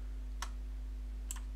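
Two faint, crisp computer mouse clicks, about a second apart, sharp and brief over a quiet background hum.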